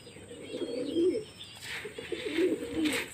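Pigeons coo in low, throaty rolling phrases, two clear bouts close by, with faint rustling in the background.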